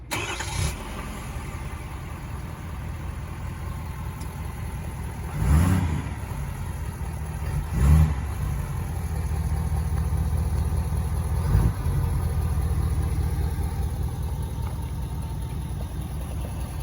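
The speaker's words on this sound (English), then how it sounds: "We're going to cold start the truck now and let me know how it sounds." A 2022 Ford F350 Lariat Tremor cold-starts with a few cranking surges and revs, then settles into a steady, rumbling low idle close to the microphone.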